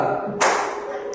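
A classroom group gives a single sharp, fairly loud clap of hands that rings out briefly and fades, heard up close against a quiet room.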